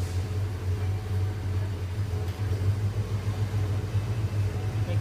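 A 1985 Zimmer car sits running with its AC compressor clutch engaged, giving a steady low engine hum and rumble, close and fairly loud, unchanging across the stretch with no speech.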